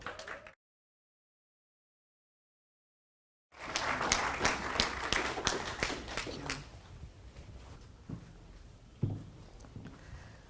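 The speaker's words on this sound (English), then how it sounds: "I want you guys to give her a great round of applause for Dr." An audience at a leadership event breaks into applause after a brief silence. The clapping is quick and fairly close at first, then fades away to a few scattered claps.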